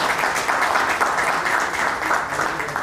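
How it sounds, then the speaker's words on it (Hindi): Audience applause at an open mic poetry evening in a cafe, a dense steady wash of clapping from a nearby crowd that holds at even loudness throughout, with no speech over it. "एक बार जोरदार तालियां इनके लिए बजाइए"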